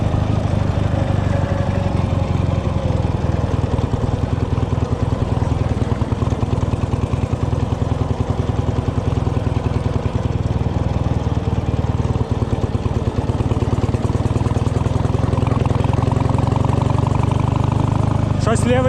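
Motorcycle engine running close by with a cylinder misfiring, giving a steady low rumble with uneven skips, while a rider talks over it throughout.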